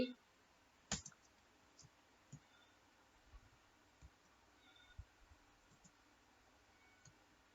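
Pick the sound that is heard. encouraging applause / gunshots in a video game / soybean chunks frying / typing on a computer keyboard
typing on a computer keyboard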